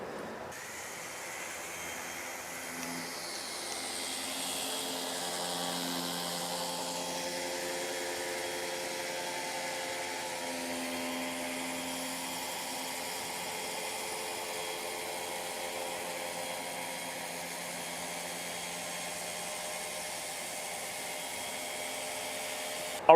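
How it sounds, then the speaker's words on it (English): A 3-inch polisher works over the back bumper of a 1980 C3 Corvette, giving a steady mid-level whir whose pitch drifts and drops early on as the load changes. "we're grabbing our 3-inch polisher, going around all the little areas"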